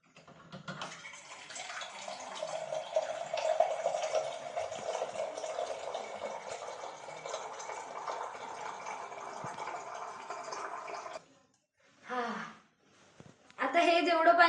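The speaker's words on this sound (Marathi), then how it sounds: "हा वॉटर प्युरिफायर आहे" A household water purifier runs and pours water in a steady, close splashing stream for about eleven seconds, then stops, after which a voice speaks.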